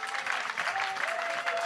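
Church congregation clapping during a French-language Sunday service, a dense, steady wash of applause through the whole short stretch, with a faint sustained tone underneath.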